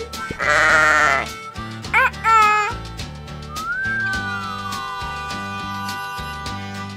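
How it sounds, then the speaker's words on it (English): Sheep bleating in a children's animal alphabet song, a few loud, wavering bleats near the start, heard over bright, steady music that carries on after them. "Sheep."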